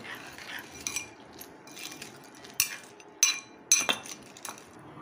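A spoon stirs boondi into Kolhapuri-style brinjal rice in a pot, giving scattered light metallic clinks and scrapes, then a few sharper knocks against the pot rim later on, close by and with no talk.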